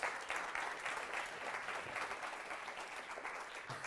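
Steady audience applause at a mentalism stage show, dense and sustained throughout with no break or voices, even in loudness from start to finish.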